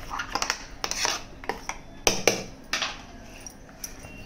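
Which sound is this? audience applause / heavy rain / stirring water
stirring water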